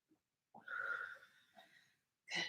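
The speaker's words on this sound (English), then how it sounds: "Big, strong breaths." Big, strong breaths are taken during a core workout class: a short puff, then a long, raspy, wheezing exhale and a final forceful breath, close and fairly quiet.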